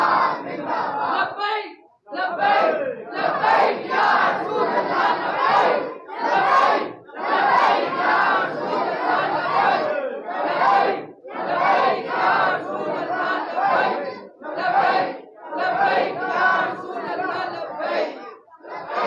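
A large crowd at a religious Milad gathering chants slogans in loud, rhythmic call-and-response waves, with brief pauses between bursts of unified voices.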